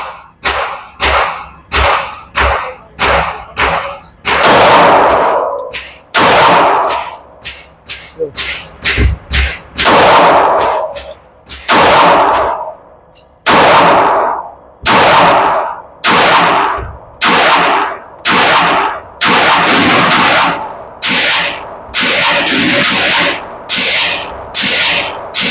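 Pistol shots fired at a range target while comparing Kimber Eclipse, Kimber Coyote, Romulus and MAC9 handguns, a long series of loud, sharp close-range bangs in irregular bursts, some rapid, others spaced.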